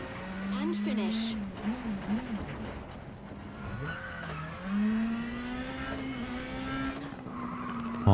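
Rally car engine in WRC 10 racing game braking hard into an acute tarmac hairpin, revs dropping and rising with tire squeal and skidding, close and loud throughout.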